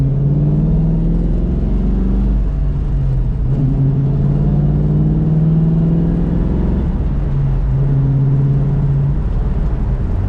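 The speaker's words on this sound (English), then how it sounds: "Good acceleration in this Mustang." A 1966 Ford Mustang Fastback with a 5-speed gearbox, its engine rumbling and climbing in pitch as it accelerates through the gears, loud and steady from inside the car.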